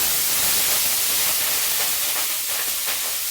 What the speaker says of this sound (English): there is going to be some splashback as you put the slightly wet rice into your oil